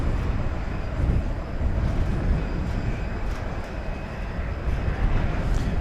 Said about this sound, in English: Here goes that United plane finally.